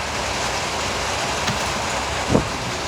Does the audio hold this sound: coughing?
no